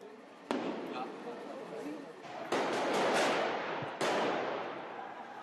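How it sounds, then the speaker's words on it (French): Police grenades go off during an arrest raid in Belgium: several sharp blasts land at intervals, loud and echoing, over rumbling background noise while a narrator speaks. "Quelques instants plus tard, la police lance des grenades."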